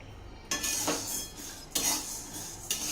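Sago dry-roasting in a pan, stirred with a spoon that scrapes and clinks against the metal in three distinct strokes over a light crackle, close and without voices.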